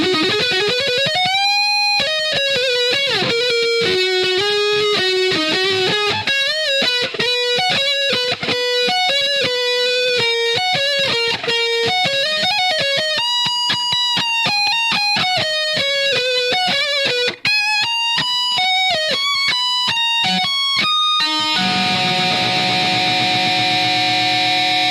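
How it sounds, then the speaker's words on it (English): Dry electric guitar solo through a simulated amp with no reverb or delay: a continuous run of clear, sustained melodic notes plays alone and loud, ending in a brief sustained chord. "the guitar, dry, without any reverb or delay, sounds like this"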